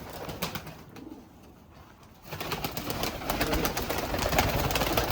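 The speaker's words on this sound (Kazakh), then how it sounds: "Ереке, осындай құстар жинауға қанша уақыт кетті?" Pigeons coo in soft repeated calls amid a fluttering, rustling background, the cooing growing busier and louder toward the end.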